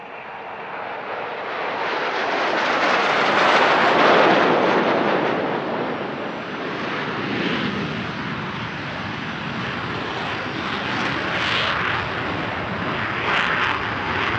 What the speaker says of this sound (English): As the Patrouille de France taxi back in